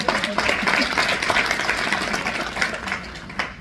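An audience in a crowded conference room applauds, producing a steady, fairly loud wash of many hands clapping that tapers slightly toward the end.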